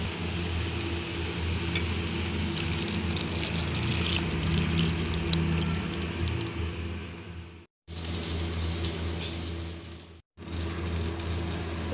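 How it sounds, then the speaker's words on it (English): Tamarind juice poured into a pan of simmering egg pulusu curry with brinjal, a steady liquid pour and soft sizzle running for several seconds, interrupted by two brief silent cuts. "Now we can add tamarind juice into this."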